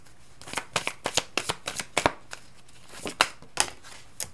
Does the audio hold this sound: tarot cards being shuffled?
yes